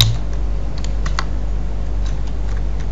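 Typing on a computer keyboard produces a short series of soft, scattered key taps over a steady low hum, close and fairly quiet, with no voices.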